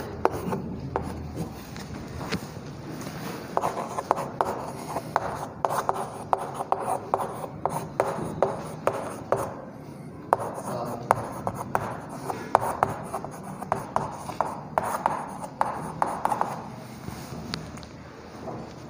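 A pen scratches across paper as notes are written by hand, in a close series of short rubbing strokes with small pauses between words, with no voices.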